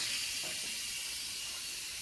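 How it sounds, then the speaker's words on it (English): Steady broadband hiss of steam venting from an Instant Pot pressure cooker during quick release, continuous and even throughout, fairly quiet with no talking. "It's not nearly as much of a steam release because we let it quick release for a little bit."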